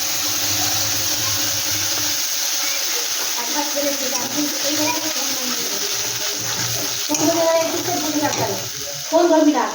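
Homemade spice paste dropped into hot oil in a kitchen pan, frying with a steady sizzle and bubbling crackle that stays loud throughout, with stirring scrapes near the end.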